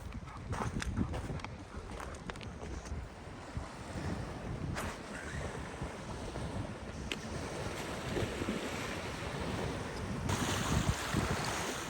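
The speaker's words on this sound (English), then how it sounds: "The wind was whipping and the water was frigid" Wind whipping over frigid lake water behind a dam, with steady broadband gusting and lapping water noise throughout, a dog playing nearby, no speech.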